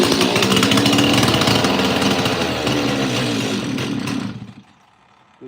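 A Stihl 026 chainsaw that will not stay running roars loud and steady close by, then dies away after about four seconds, leaving near silence.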